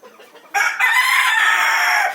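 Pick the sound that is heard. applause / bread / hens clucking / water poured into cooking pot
hens clucking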